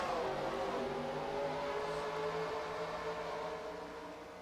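NASCAR stock cars taking the green flag side by side at Richmond for the Pontiac Excitement 400, a dense roaring engine drone with rising revs as the field accelerates.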